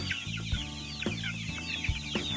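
Farm chickens cluck in a quick repeating series of short calls, close and clear, with no talk.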